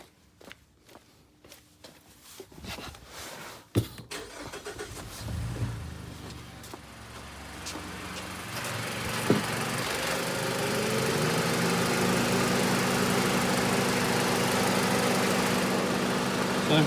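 Clicks and shuffling, then a 2015 Mazda CX-5 engine with fault codes P0171 and P0192 cranks and catches, settling into a steady idle that hums on to the end.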